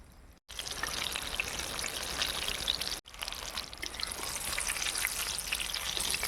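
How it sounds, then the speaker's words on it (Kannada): Chillies coated in gram flour batter frying in hot oil for bajji, a dense, steady crackling sizzle that runs throughout, close and constant, broken by two very brief drop-outs. "ಕಡಲೆ ಹಸಿಟ್ಟಲ್ಲಿ ಮೆಣಸಿನ್ಕಾಯಿನ ನೀಟಾಗಿ ಎತ್ಕೊಂಡು ಹಿಂಗೆ ಎಣ್ಣೆಲಿ ಬಿಟ್ಬಿಡೋಣ."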